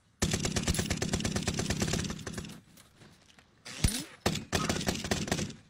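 Video game machine-gun fire rattles in fast, loud bursts, a long sustained volley, then a pause, then more short bursts and a final long stream of shots.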